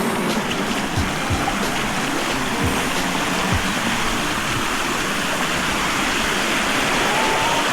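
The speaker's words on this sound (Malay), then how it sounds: "Di mana-mana ada air terjun" A waterfall high on Gunung Jerai gives a constant, dense rush of falling water, loud and steady throughout with no voices.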